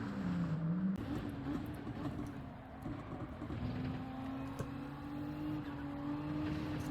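Dodge Viper Gr.3 race car in Gran Turismo 7 online daily racing, its engine droning steadily at high revs with a sustained tone and small pitch shifts, loud and continuous with no talk.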